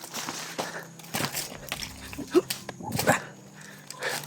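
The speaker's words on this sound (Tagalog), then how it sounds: "May mga aso." Several dogs bark in short, scattered bursts amid a noisy, chaotic outdoor scene, with other commotion around them.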